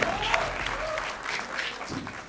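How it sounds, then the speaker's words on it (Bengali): A talk-show studio audience breaks into loud, sustained clapping, dense and continuous throughout with a few louder claps poking through. "সবাই জোরে করতালি দাও ফর সেলফি কুইন।"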